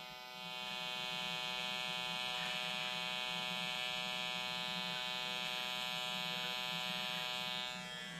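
An electric hair clipper trims facial hair with a steady, close, high-pitched buzz that runs unbroken for several seconds after starting up, with no talking.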